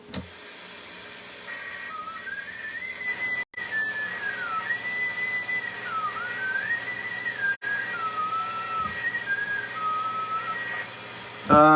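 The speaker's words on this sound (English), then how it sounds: "He can whistle." A thin, wavering whistled tune drifts up and down for several seconds, moderately loud over a steady mechanical hum, with two sharp clicks breaking in.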